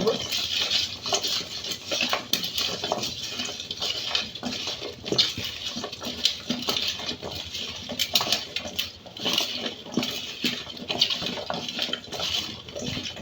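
Hog plum (amra) is mashed together with chili and salt, giving a close, steady run of wet squishing and pattering with light clinks against a dish.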